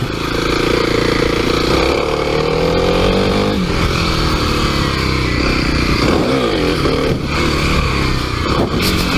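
A Kawasaki KLX300 dual-sport motorcycle climbs a hill with a loud, steady engine drone and shifting pitch as the rider rolls the throttle, accompanied by continuous wind rush throughout.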